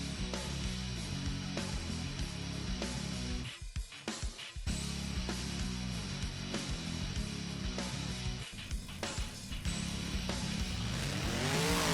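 The monster truck Wild Ride rolls onto the track at a Monster Truck Wrestling Series show in Foxborough, its engine roaring and revving continuously, briefly dipping before surging loud again amid arena noise.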